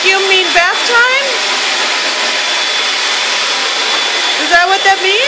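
A household vacuum cleaner runs with a steady, loud, unbroken roar, while pet birds chirp briefly over it near the start and again near the end.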